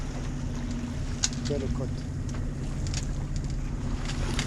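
A sailboat's engine motors steadily along the Spanish coast near Mar Menor on a passage from Gibraltar to Torrevieja, giving a continuous low drone mixed with wind buffeting the microphone while a person speaks briefly.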